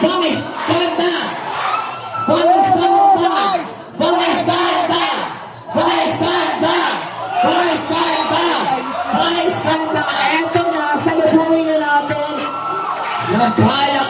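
Crowd at a Christmas-season celebrity movie premiere at SM North Edsa cheers, whoops and yells loudly, with shouting voices and a host talking over the noise throughout.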